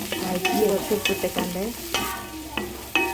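Onion, green chili, ginger and garlic sizzle in a pan while being stirred, with sharp metallic scrapes of a spoon against the pan recurring at irregular intervals over the frying hiss.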